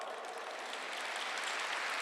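Church congregation at a Catholic Mass applauding, a steady faint wash of many hands clapping, continuous and distant without voices.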